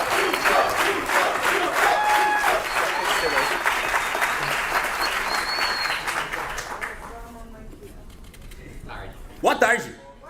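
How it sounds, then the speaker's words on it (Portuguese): A crowd at a political party membership event applauding loudly and steadily with dense clapping and scattered cheers; it tapers off near the end, then a voice rises briefly. "Aplausos e mais aplausos!"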